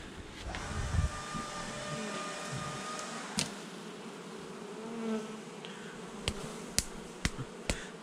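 Honeybees drone steadily at an open hive during a honey harvest check, a dense continuous buzz close by with a few sharp clicks and knocks near the end.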